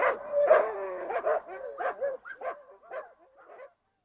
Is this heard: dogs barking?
yes